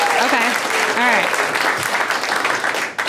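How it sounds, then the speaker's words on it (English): Comedy club audience applauding at a stand-up show, a steady wash of clapping throughout, loud and close, easing slightly near the end. "Clap if you're married in here."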